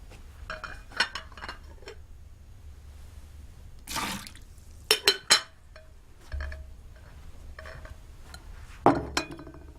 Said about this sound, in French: je vais vider le récipient aux eaux usées